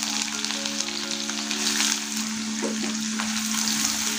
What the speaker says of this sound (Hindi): प्याज को भून लेंगे